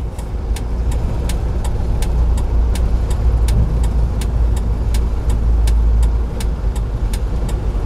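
A manual-transmission car drives on a road during a driving test, heard from inside as a steady, loud low engine rumble and road noise with a regular ticking, probably the turn-signal indicator.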